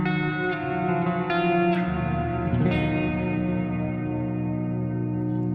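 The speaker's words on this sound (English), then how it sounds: "It creates this woolly ambience behind all the notes." Guitar tones played through a NUX Verb Core Deluxe plate reverb at maximum decay, level at noon, with clear picked notes carried over a soft, smeared woolly tail that hangs steadily behind them.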